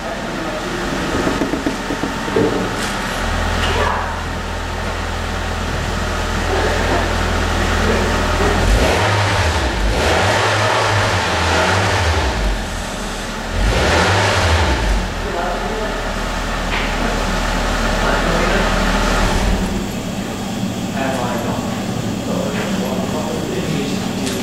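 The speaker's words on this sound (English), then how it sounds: "can't really rev it too high inside or else it starts to stink" A Nissan Altima engine revs up and down several times in repeated surges to about 3,000 rpm, deep and loud, with exhaust rumble and occasional talk nearby.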